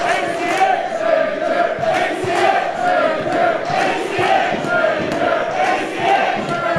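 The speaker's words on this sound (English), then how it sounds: "Crowd with dueling chants here as the action rolls on." Pro wrestling crowd trading dueling chants during a match, rhythmic rising-and-falling group shouting that repeats in regular waves, loud and close throughout.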